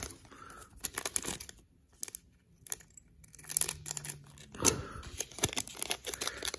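Foil booster pack of Pokémon Eevee Heroes cards being torn and crinkled open by hand, close up, in several short ripping and rustling bursts with quiet pauses between them.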